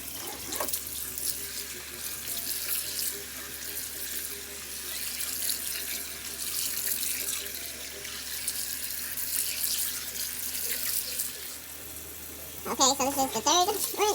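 Tap water runs into a bowl of oxtails being rinsed in a kitchen sink, a steady splashing stream lasting most of the stretch, ending with a brief louder clatter and slosh near the close.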